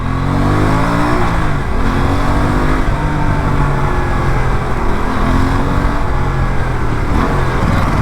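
A 2025 Aprilia RS 457 sport motorcycle engine revs loudly and close by, its deep throaty roar rising and settling in a continuous, rumbling drone with no voices.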